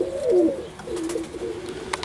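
Oriental Roller pigeons coo softly inside a loft, a low rolling coo near the start followed by further murmuring calls and faint rustling.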